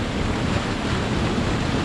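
A waterfall in the desert after a storm gives a loud, steady roar of rushing water with no breaks, close to the microphone, with no voices.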